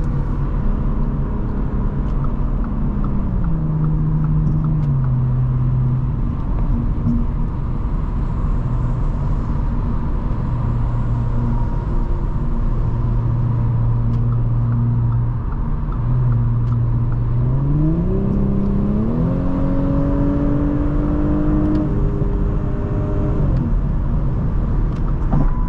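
A 2022 Audi S5 Sportback's 3.0-litre turbocharged engine pulls hard on a freeway, a loud steady road drone with engine harmonics that rise and fall as it accelerates and shifts, without speech.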